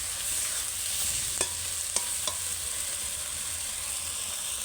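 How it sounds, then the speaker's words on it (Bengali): Stingray fish stir-fried in oil for a spicy red curry, with a steady close sizzle and a few sharp spatula clicks against the pan around the middle. "আর ওটা আমি মাছগুলো দিয়ে একটু কষে নেবো মাংসর মতন"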